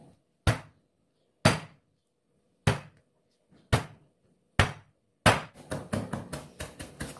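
Shallots and garlic are crushed with a knife on a cutting board: five separate heavy whacks spaced about a second apart, then a fast run of rhythmic chopping as they are minced, close and sharp.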